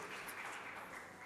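Steady, dense audience applause fills the whole short stretch at a talk on strengthening families, a continuous wash of many hands clapping with no voices over it.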